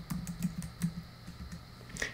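Someone types a bundle name on a computer keyboard, with a quick run of soft, close key clicks and no talk.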